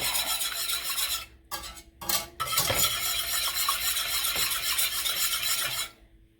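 A whisk works through pineapple gravy in a pan, giving a continuous brisk scraping and rasping with a couple of short pauses, close and fairly loud, then stopping at the end.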